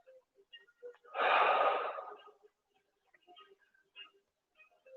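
A single quick breath drawn during a live yoga class, a burst of air lasting about a second, close and clear, with faint scattered sounds around it and no talk.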